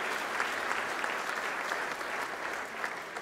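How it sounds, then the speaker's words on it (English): A Melbourne book launch audience gives a steady round of applause, dense clapping held at an even level from start to finish with no voices on top. "So give Kelly a big round of applause, everybody."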